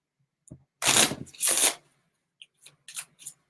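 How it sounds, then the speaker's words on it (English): A deck of cards for the Godsforge card game is shuffled in two quick riffling bursts close by, then a few soft card taps and snaps. "I can shuffle."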